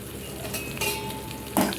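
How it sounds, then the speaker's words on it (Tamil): Chopped onion and curry leaves sautéing in an oil-filled pan with cumin seeds for a cauliflower poriyal, a steady close sizzle broken by a few louder scrapes and clatters as the spatula stirs. "போட்டு நல்லா வதக்கி விட்டுருங்க"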